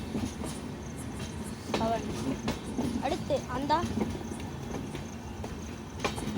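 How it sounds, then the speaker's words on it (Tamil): Railway coaches of an Indian train rolling past on the tracks, with a faint rhythmic clickety-clack and occasional wheel squeal underneath someone speaking. "அங்கே ஒரு ட்ரெயின் வருது பாருங்க"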